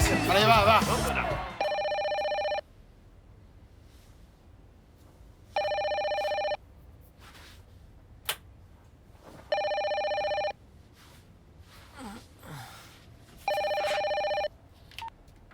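A telephone bell rings in regular bursts of about a second with gaps between, clear and moderately loud, after a short burst of talk at the start.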